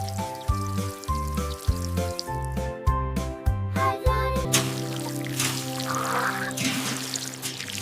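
Water poured over young carrots in a garden bed, a steady soft rushing splash that comes in halfway through and continues alongside rhythmic background music.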